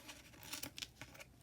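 Scissors snip off excess string during a Christmas craft project, giving a few quick, faint cutting and rustling sounds close by.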